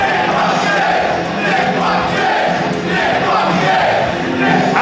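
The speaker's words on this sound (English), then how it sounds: "You hear a huge Nick fucking Gage chant from the crowd." Wrestling crowd at an IWA East Coast deathmatch show chanting a wrestler's name, a loud, dense roar of many voices with a rhythmic rise and fall, sustained throughout.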